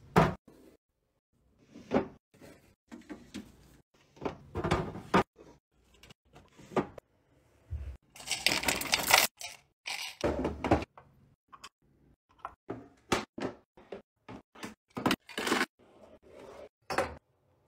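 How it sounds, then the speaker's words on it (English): Bathroom cabinets and drawers being restocked, with a steady run of close, crisp knocks, clacks, rustles and door or drawer bumps spread through the whole stretch, recorded up close in an ASMR style with no talking. "Last thing I need to do is restock my cabinets and drawers."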